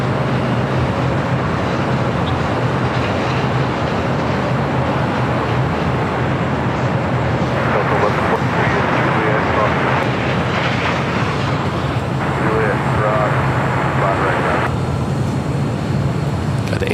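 An Air France airliner arrives on the south side at LAX, giving a loud, continuous roar with a steady rumble underneath and shifting hiss on top.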